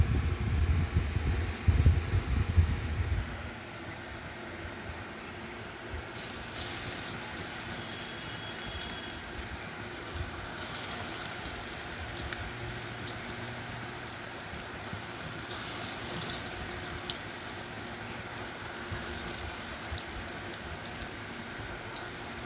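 Small lentil fritters (dal bora) frying in hot oil, a continuous rain-like crackle and sputter with louder bubbling surges every few seconds, after a heavy low rumble at the start.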